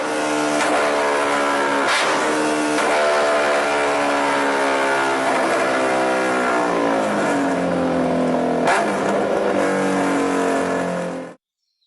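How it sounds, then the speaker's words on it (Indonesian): A motorcycle engine revs hard through a loud exhaust, a sustained throaty drone with pitch swells and sharp blips of throttle, close and constant until it cuts off abruptly. "Dengan sombong dia menggeber-geberkan gas motornya, sehingga suara knalpot terdengar berisik di telinga teman sekolahnya."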